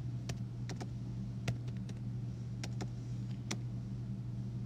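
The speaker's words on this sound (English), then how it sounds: "Wow, look at my typing today." Keys tapped on a computer keyboard as a paragraph about turtles is typed, a sparse run of crisp clicks over a steady low hum.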